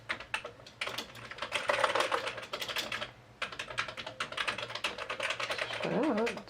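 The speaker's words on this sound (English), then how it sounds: "Let's go ahead and type on a few keys here and just see what happens." Keys clatter on a Commodore 128 computer keyboard in a steady, close burst of typing with a short pause in the middle, loud and with no talk over it.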